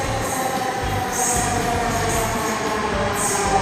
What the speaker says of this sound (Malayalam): ഇവിടെ അടുത്ത മെട്രോ വന്നു കഴിഞ്ഞു.